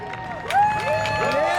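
A spectator crowd at a Seekonk Speedway drag race cheers and whoops for the winner, with rising shouts and a swell of applause across a short burst.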